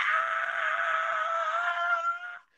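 A voice imitating a band singer's high scream, one sustained strained shriek lasting over two seconds before cutting off.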